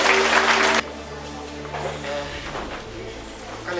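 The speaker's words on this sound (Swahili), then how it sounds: "Piga Yesu makofi." A church congregation claps for Jesus during a worship service, a loud burst of massed applause that stops abruptly after under a second, leaving quieter room sound and faint murmuring.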